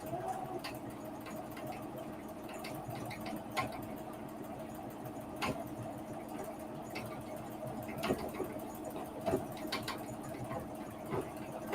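A domestic sewing machine stitches embroidery, giving a steady, faint mechanical hum with a fast needle rattle and small irregular clicks throughout, with no talk.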